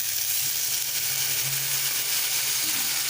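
Water poured into a hot frying pan of spiced fish gravy for chapila fish sizzles loudly, a dense continuous hiss with faint low clinks of stirring underneath and no voices.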